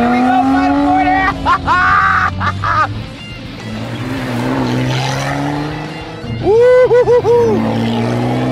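A Lotus Evora 400 sports car is driven hard through a final corner, its engine rising and falling with gear changes and brief tire squeal, loud and close, with excited voices over it.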